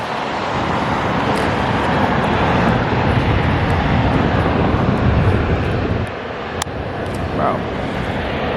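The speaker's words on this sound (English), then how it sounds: "hold on, the plane from the takeoff." An airplane taking off near a beach gives a loud, continuous jet roar that fills the whole stretch, with brief voices and wind noise mixed in.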